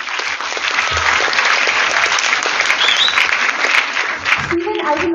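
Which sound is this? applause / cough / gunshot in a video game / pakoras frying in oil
applause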